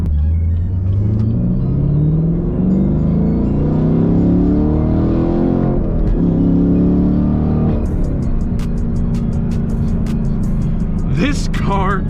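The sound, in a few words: 2023 Camaro LT1 six-speed engine revving and accelerating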